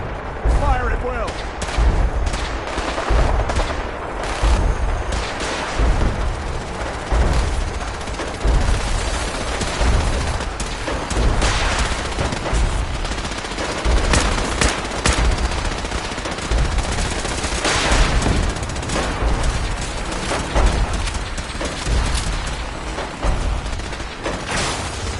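Dense gunfire from the Fallout 4 video game keeps up a loud, continuous stream of shots and bursts throughout, with combat effects layered in.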